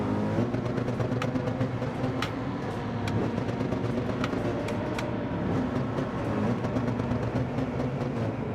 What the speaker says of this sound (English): I'm sitting here full throttle